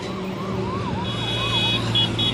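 An ambulance siren wails on a road near a burning truck, its rising and falling tone loud and close over steady traffic rumble.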